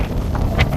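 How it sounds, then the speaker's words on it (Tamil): Wind gusts across an isolated hill at the foot of the Western Ghats, rough low buffeting on the microphone in a brief, steady blast. "நல்ல காற்று மக்களே"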